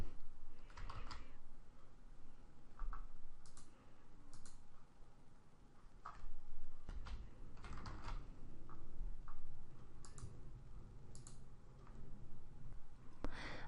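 Keys clatter on a computer keyboard as a search query is entered, a close, steady run of clicky keystrokes in bursts with brief pauses, heard alone without talk.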